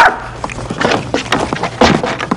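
A pet bird imitating a dog, giving several loud, close bark-like calls and whimpering yaps in quick bursts over about two seconds, with no talking.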